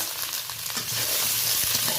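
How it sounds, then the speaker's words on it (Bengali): Potatoes and eggplant, salted, frying in a pan while being stirred, giving a steady close sizzle with scraping and clatter of the utensil through the two seconds. "আলু বেগুনটা বেশ ভালো করে 2-3 মিনিট ধরে নাড়াচাড়া করে নেব।"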